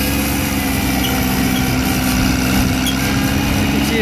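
A 1988 John Deere 322 garden tractor engine runs close and loud under throttle, a continuous even drone while driving over a bumpy yard, with no voices.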